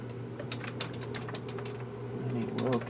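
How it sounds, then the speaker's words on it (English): Rapid typing on a computer keyboard, a steady run of quick clicks close by over a low constant hum, with no talking. "Might be some typos because I'm going to be typing fast"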